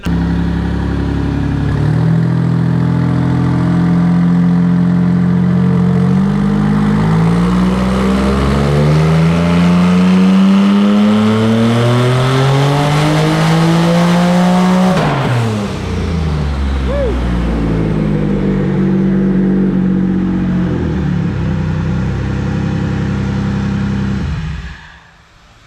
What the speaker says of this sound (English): Let's watch a rear wheel drive Civic get down.